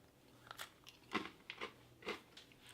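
Several crisp, crunchy bites into a hard biscuit from a French 24-hour combat ration, close up, each a short crackling burst with brief pauses between.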